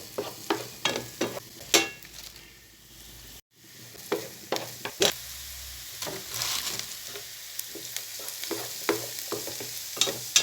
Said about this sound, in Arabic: بدات تدبل البصله، تدبل هي والثوم